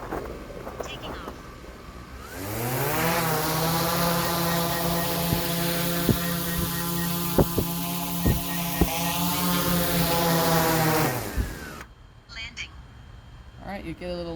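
DJI Mavic 3 Enterprise drone spinning up and lifting off, its rotors a loud, steady buzzing whine with rising harmonic tones that holds for about ten seconds, with a few clicks, then cuts off abruptly.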